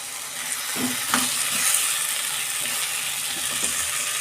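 Chicken leg pieces go into oily, cooked-down masala in a pan, producing a continuous close sizzle with soft stirring and scraping sounds layered over the frying.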